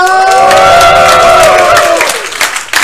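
A live audience at DragonCon in Atlanta, Georgia cheers and applauds loudly, a dense wash of voices and claps that tapers toward the end, with scattered shouts rising above it.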